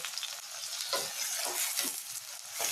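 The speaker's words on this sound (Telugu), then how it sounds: "ఉల్లిపాయలు కూడా బాగా బ్రౌన్ కలర్ రావాలి, అలా వేపుకోవాలి." Onions fry in well-heated oil for mutton curry with a bright, continuous sizzle and bursts of stirring, heard up close with no speech.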